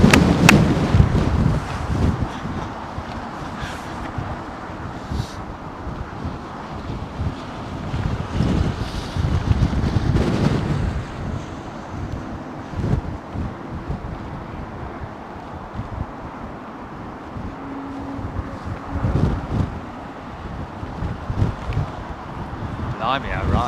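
Strong gusting wind at Heathrow Airport buffets the microphone in uneven roaring surges throughout, with someone talking at times over it.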